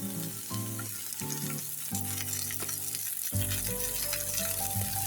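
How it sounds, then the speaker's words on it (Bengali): Onion and garlic fry in olive oil with a steady, continuous sizzle, partly masked by background music that plays throughout. "ভালো করে আমি এই পেঁয়াজ রসুনগুলি ভালো করে আমি একটু ভেজে নিব।"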